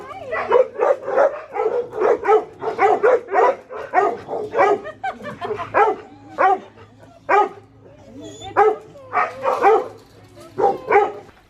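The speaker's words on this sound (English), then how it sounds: "A lot of those dogs were really happy to see us" Several dogs bark excitedly in rapid bursts with yips and whimpers mixed in, close and loud, with occasional voices underneath.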